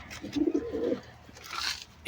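A brief burst of low pigeon cooing up close, followed by faint scratchy rustling and a small knock at the end.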